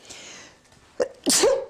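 One loud, close sneeze bursts out right after a brief sharp intake, alone against a low room hiss.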